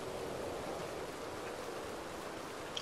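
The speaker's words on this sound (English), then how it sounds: "I hate the rain" Steady rainfall in the video game Red Dead Redemption 2, an even, hissing wash of drops that holds at a constant moderate level with a small knock at the very end.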